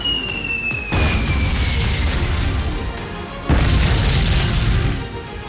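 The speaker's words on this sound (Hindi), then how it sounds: "बम बारूद के धमाकों की आवाज आ रही है।" Heavy bomb blasts over Lebanon, two huge deep booms a few seconds apart, each followed by a long roaring rumble that fills the soundscape, with a faint whistling tone fading before the first blast.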